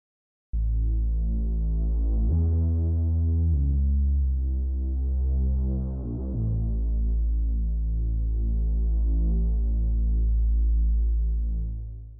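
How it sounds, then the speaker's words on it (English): A deep bass pad synthesizer patch built in the Vital software synth sustains a low droning note that shifts pitch a few times and slowly pulses and swells, alone and fairly loud. "now we have a very interesting, modulated, flowing and changing sound"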